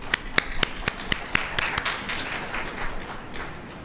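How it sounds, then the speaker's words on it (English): An audience at the Aero India 2023 defence drone panel applauds the panelists, with several distinct crisp claps up front that blend into a softer, thinning round of clapping before fading. "ladies and gentlemen, a big round of applause for our distinguished panelists."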